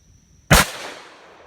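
A single loud shot from a Smith & Wesson 586 .357 Magnum revolver cracks sharply close by, then rings out in a fading tail over about a second.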